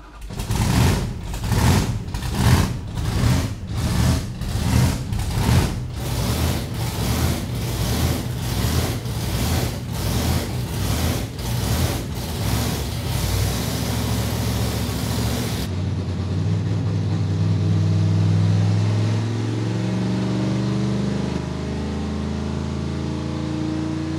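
A car engine runs loud and close from inside while being driven, first with a fast rhythmic pulsing, then settling into a steady rough drone.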